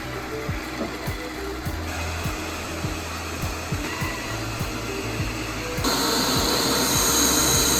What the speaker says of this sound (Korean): 흡입력 자체가 높음에도 본체 자체의 소음은 60에서 70dB 정도로 정도로 큰 편은 아니었습니다.